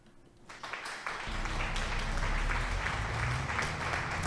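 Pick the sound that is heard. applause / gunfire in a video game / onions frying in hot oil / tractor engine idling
applause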